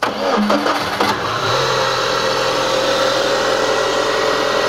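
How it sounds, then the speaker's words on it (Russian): A Lada Priora engine cranks and catches, then settles into a steady, close idle with a constant low hum and a faint high whine. "Не знаю, слышно вам или нет, но двигатель работает хорошо"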